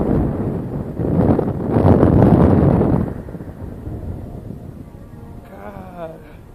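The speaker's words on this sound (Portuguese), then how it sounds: "que vento" Strong wind roars and buffets the microphone high on a 150-metre Sky Screamer drop tower ride at Six Flags, loud gusts peaking then easing, with voices speaking nearby.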